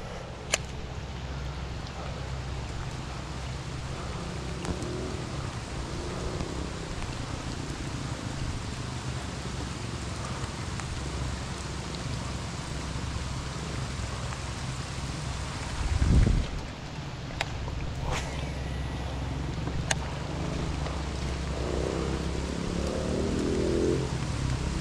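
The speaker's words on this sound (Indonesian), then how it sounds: "Hujan semakin kuat." Steady heavy rain pours during a fishing trip in the monsoon season, a dense continuous wash that holds constant throughout, broken by a brief low thump partway through.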